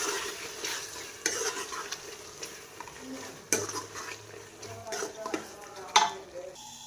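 Minced meat fries and sizzles in a pan with cumin and fresh coriander while a utensil stirs it, giving irregular scraping clinks and knocks against the pan over a soft steady sizzle; close and moderately quiet.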